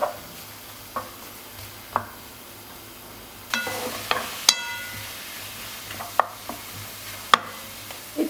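Diced meat cooks in a pot until its juices release and reduce, with a low sizzle, punctuated by sharp clinks and scrapes of a utensil stirring at irregular intervals.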